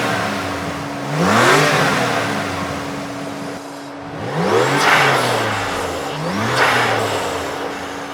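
A 2016 Mercedes-AMG C63 S engine revs three times in quick succession, each blip swelling to a loud, close roar and falling back to a steady idle between pulls.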